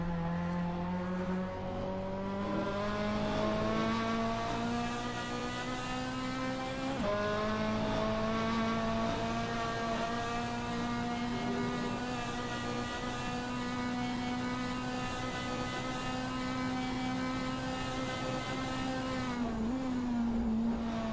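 GT race car engine at the Nurburgring in Assetto Corsa, a loud sustained nasal drone rising slowly in pitch, broken by two quick upshifts and a brief blip near the end, steady and close with nobody talking.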